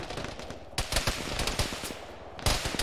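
Rapid machine-gun fire crackles in Arma, a steady stream of sharp shots with a few louder bursts near the start and end, moderately close and without talk.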